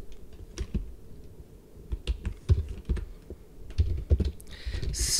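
Typing on a computer keyboard, with irregular bursts of clicky keystrokes in uneven rhythm, close and fairly loud, alone without any voices.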